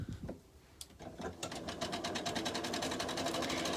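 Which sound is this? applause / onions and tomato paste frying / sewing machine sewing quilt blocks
sewing machine sewing quilt blocks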